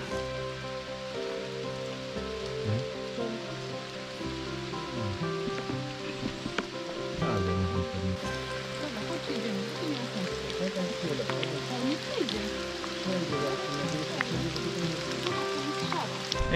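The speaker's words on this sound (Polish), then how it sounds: "Jest taki deszcz, że nie ma sensu dalej iść." Heavy rain pours steadily onto rock formations in a Polish rocky landscape, a dense continuous hiss with scattered drips and splashes close by, lasting throughout.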